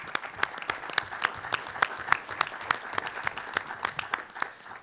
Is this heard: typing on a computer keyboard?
no